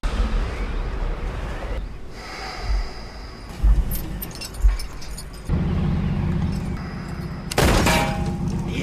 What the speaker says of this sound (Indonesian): Tembakan pertama Brandon meleset dan hanya mengenai bahan bakar kapal